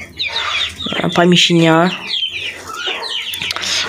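Hens and young chicks clucking and peeping in a new coop, with close bird calls scattered throughout under someone talking.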